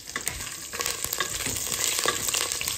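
Chana dal, urad dal, ginger, curry leaves and peanuts fry in hot oil for a puri oggarane tempering, a steady close sizzle with scattered crackles and soft stirring scrapes throughout.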